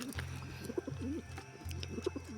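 Pigeons cooing during their weekly bath, soft rolling low coos repeating close by over a steady background hum, with a few higher bird chirps mixed in.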